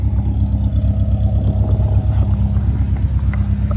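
A car engine with a loud aftermarket exhaust idles close by, producing a deep, throbbing low rumble with a rapid pulsing rhythm, steady and loud throughout with no speech.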